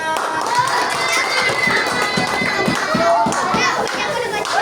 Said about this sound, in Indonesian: Oke, sip, beri tepuk tangan